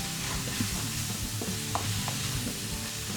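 Vegetables and flour stirred in a sizzling pan for a vegan bourguignon, a steady close sizzle with a few soft scraping strokes from the spoon.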